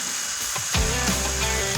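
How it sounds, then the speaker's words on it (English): A hinge being screwed in place during a DIY room makeover: a brief soft scrape, then a steady whirring screwdriver drone that runs on to the end, close and fairly loud. "And I'll screw it in place."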